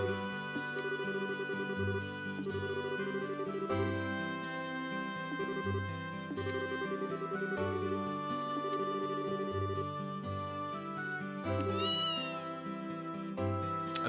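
A cat meowing in The Legend of Heroes: Trails in the Sky, repeated short meows over ongoing game music with a steady pulsing background melody.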